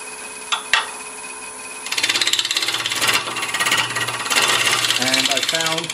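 A hollowing tool cuts into a gnarly wood burl spinning on a lathe, first a couple of sharp knocks, then a loud, rough, rapidly chattering scrape that continues in bursts, ending with a whistling squeal as the cut eases.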